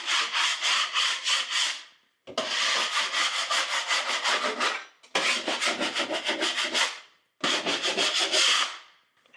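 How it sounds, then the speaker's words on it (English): Four long bouts of scraping across drywall in a 1988 Palm Harbor singlewide mobile home, knocking off bumps. Each pass is a loud, close, gritty rasp lasting about two seconds, separated by short pauses, with no talking. "the first thing I'm gonna do is scrape off any boogers"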